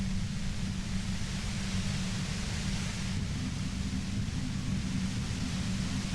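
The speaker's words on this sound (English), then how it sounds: "The violet white noise becomes even more overwhelming closer to the compressor" Dense, steady hiss of overwhelming white noise near a compressor in Disco Elysium, broadband and unbroken, loud and constant throughout with no voices.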